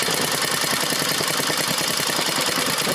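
A Briggs & Stratton 5hp horizontal flat-head small engine idles steadily, a close, loud, continuous mechanical chugging with a rough, knocking texture and no speech over it.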